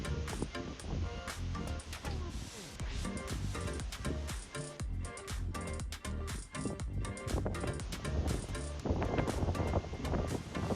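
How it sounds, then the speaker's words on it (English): Strong wind buffeting the microphone, a loud continuous roar with gusty bursts that swamps everything else. "It's quite windy out here, and we literally can't hear anything."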